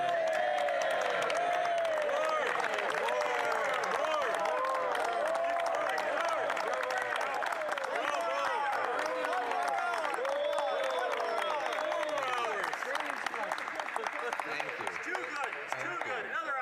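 Audience in a parliamentary chamber reacting to a political speech: sustained crowd noise with clapping, cheering and whoops, loud throughout and mixed with many overlapping voices.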